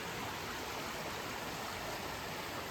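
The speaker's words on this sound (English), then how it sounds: "A nice brook." Brook along the Appalachian Trail flowing in the woods, a steady broadband rush of water, close and continuous with no other sounds.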